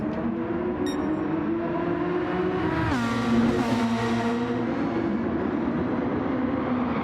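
Super Formula car engine at Suzuka in Gran Turismo 7, droning loudly as it climbs in pitch, with one sharp gear change midway that drops the note before it rises again, steady and close with no talk.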